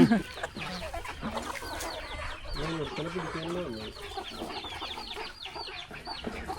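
Native breed chickens cluck and chatter steadily on a Kerala farm in the morning, many birds calling over one another at moderate distance.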